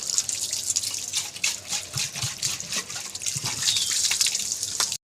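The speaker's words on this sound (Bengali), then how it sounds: "সকালবেলায় যে বাসি কাজ করছি, জল তুলবো, বাসন মাজবো" Running water for washing dishes in the morning, a continuous splashing, dripping flow close by with uneven trickles throughout, ending abruptly.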